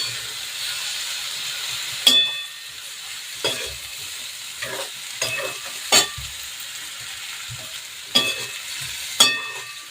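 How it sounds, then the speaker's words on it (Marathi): Semolina vadas being stirred into a vegetable curry frying in a pan, with a steady sizzle and several sharp scraping knocks of a spoon against the pan. "आपण जे रव्याचे वडे घेतले होते ते वडे ॲड करायचे आहेत छान आता असं मिक्स करून घ्यायचं आहे"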